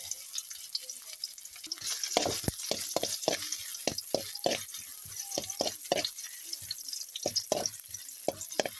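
Garlic and ginger fry in a little coconut oil with a steady crackling sizzle, dotted with rapid sharp pops and spatters that carry on without a break.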